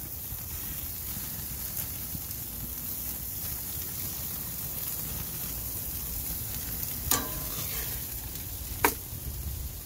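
Picanha steak reverse-searing on a shared apartment complex grill, a dense steady sizzle and crackle throughout, with two brief sharp clicks near the end.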